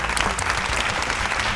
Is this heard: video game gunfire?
no